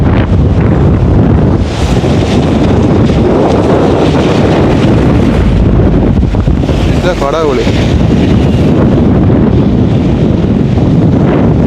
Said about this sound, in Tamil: பயங்கரமான காற்று அடிச்சு நிற்கிது